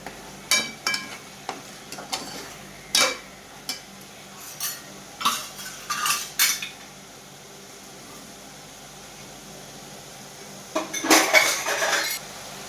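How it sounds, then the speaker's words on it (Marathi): Peas fry in a pot for a traditional village-style mixed vegetable dish, with a faint sizzle under a run of spoon scrapes and clinks against the metal, a quiet pause, then a busy burst of stirring clatter. "आता याला चांगलं फ्राय होऊन देतो"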